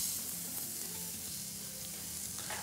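A picanha hamburger patty sizzles in a frying pan, giving a soft, steady crackle of hot fat that holds evenly throughout with no voices.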